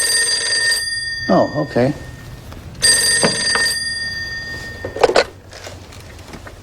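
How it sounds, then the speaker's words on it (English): A telephone rings in repeated electronic bursts, pausing between rings, while a person speaks briefly and something clatters nearby. "Your phone's ringing."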